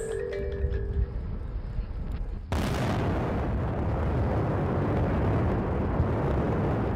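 A sudden broadband blast from dynamite at a mining site cuts in after a quieter stretch with tonal sounds, then sustains as a loud, rumbling roar to the end.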